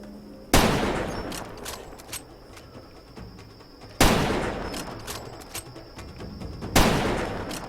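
Three loud, sharp gunshots ring out several seconds apart while shooting at enemies in an FMV-style video game, each followed by a long, ringing decay.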